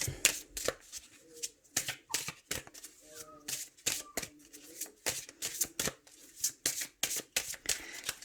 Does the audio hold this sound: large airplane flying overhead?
no